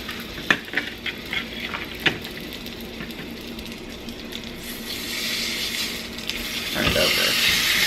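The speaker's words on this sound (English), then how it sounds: "we're just going to sear these on both sides for about 2 to 3 minutes per side" Garlic butter pork chops sizzle as they sear in a hot pan, with a few clacks of handling early on, then the frying hiss swells louder and steadier toward the end.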